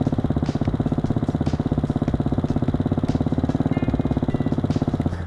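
A 2020 Hawk 250 Enduro motorcycle being ridden, its single-cylinder engine giving a fast, even, close putter throughout with small bumps and rattles on top.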